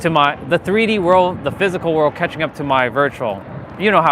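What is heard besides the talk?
No everyday noise stands out behind the speech.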